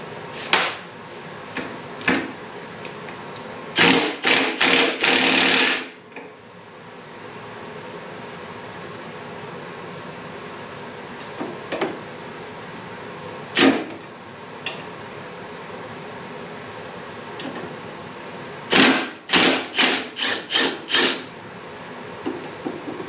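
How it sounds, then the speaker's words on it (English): Metal clanks and tool clicks come from loosening the kickstand bolts on a 1980 Harley-Davidson FLT Shovelhead motorcycle. The sharp, fairly close knocks arrive in scattered clusters with quiet gaps between them, and no one speaks. "we're going to go ahead and attempt to pull this kickstand out of the way"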